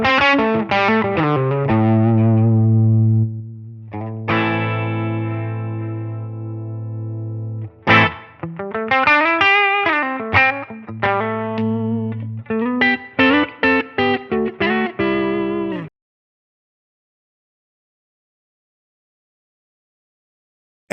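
Distorted electric guitar through an overdriven amp model on a Line 6 Helix/HX Stomp: descending riffs, a sustained chord, then choppy palm-muted phrases that stop abruptly into silence.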